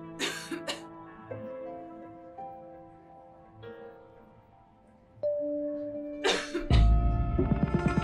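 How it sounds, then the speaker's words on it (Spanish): A couple of harsh coughs and throat-clearing sounds up front, followed by music and a loud burst near the end. "qué tos tan terrible tienes?"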